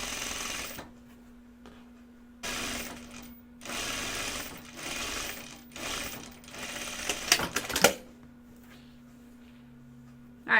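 A sewing machine stitching a side seam with inseam pockets and French seams, running in several bursts of steady whirring separated by short pauses, close and clear, with a faint hum between runs and no speech.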